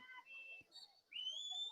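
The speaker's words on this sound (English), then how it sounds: "On the referee's whistle" At a soccer penalty kick, a referee's whistle shrills faintly at a distance. Short high tones come first, then a longer rising blast, over quiet crowd ambience.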